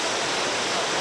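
River rapids on a white water rafting run, a brief steady rush of turbulent water filling the whole moment, close and constant with no voices.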